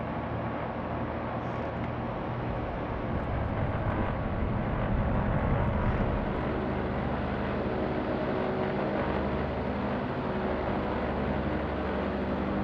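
BN-2 Islander propeller engines taxiing on the ground in a flight simulator, a steady, close, low droning hum that swells slightly as power is added, with no talk.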